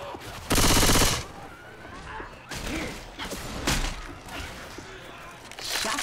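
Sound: gunfire with frag rounds in video game Left 4 Dead

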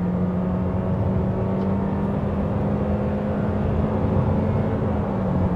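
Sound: 2022 Toyota Corolla Cross accelerating

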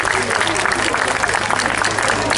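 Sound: applause

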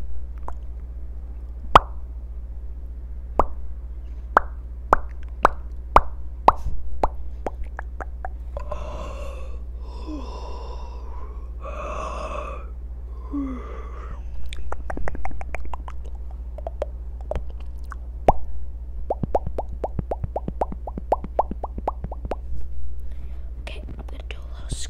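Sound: ASMR mouth sounds

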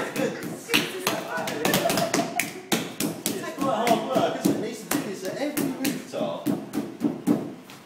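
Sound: clay thrown onto a tile mould

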